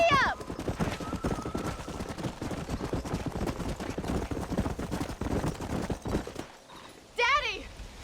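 A horse gallops in the western video game Red Dead Redemption on PS5, hooves clip-clopping in a steady rhythm under spoken dialogue, with a short whinny at the start and again near the end.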